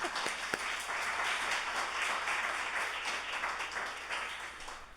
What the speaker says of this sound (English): A quick round of applause for them.